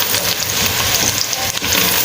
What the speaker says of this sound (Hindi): प्याज हमारी ब्राउन होने लगी है।